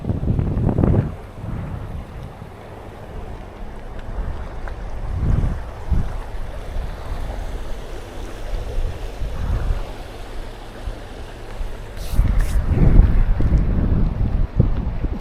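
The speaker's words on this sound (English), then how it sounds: "That water's flowing pretty strong." A river flowing strongly beside a walking trail, with a steady rushing wash of water and wind buffeting the microphone, broken by a few louder gusts and bumps throughout.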